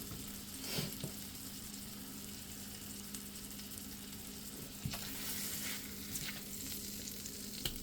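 A patty melt sizzles and browns in a hot pan, a steady quiet crackle with occasional sharper pops and scraping stirs close by.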